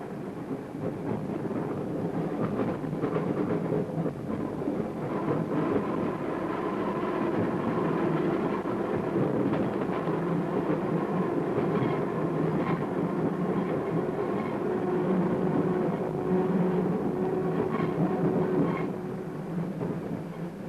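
A 1960 Sheffield tram running along a straight stretch of track, a steady close rumble with rhythmic wheel clatter and motor whine throughout, heard from on board.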